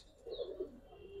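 Giribaz and coloured fancy pigeons cooing in a loft, soft low throaty coos in a short murmuring run, fairly quiet and close with a faint higher chirp above.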